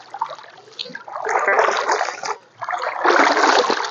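A fishing net is sloshed and rinsed in pond water, giving bursts of splashing and trickling in uneven waves with a brief pause midway, close by.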